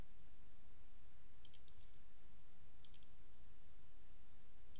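Computer mouse clicks while working in layout software, three brief, faint double clicks spaced roughly evenly over a steady background hiss.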